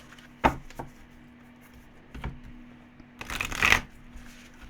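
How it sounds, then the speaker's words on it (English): A tarot card deck being shuffled by hand, with a few separate riffles and slaps followed by a longer, louder burst of shuffling near the end, all close-up in an otherwise quiet room. "It's such an awkward deck to shuffle, this one."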